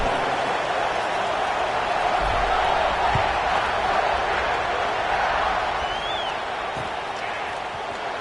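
A football stadium crowd just before kickoff makes a dense, steady roar throughout, with a few scattered thumps beneath it and a faint whistle-like tone partway through.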